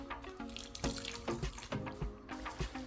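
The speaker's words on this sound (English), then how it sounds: "and I'll add about 1/3 of a glass of water." Water is poured from a glass into a pan of fish adobo, giving a close, splashing gurgle with uneven pulses for about three seconds and no talking.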